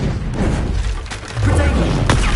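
A Bombarda spell explosion in Hogwarts Legacy, a dense booming blast that swells partway through and holds loud to the end amid ongoing combat noise, with some voice mixed in.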